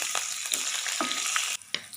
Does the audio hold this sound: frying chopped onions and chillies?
yes